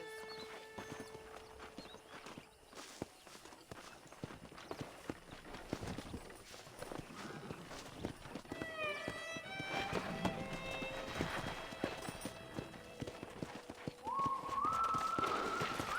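Rapid hoofbeats of horses galloping in Red Dead Redemption, with whistles, a rising whinny near the end, and music layered over the pounding rhythm.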